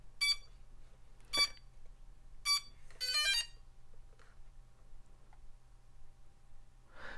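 A Xiaomi Mi Drone battery gives several short, high electronic beeps when turned on, in an uneven sequence including a quick cluster of rapid chirps, over a faint steady hum in a quiet room.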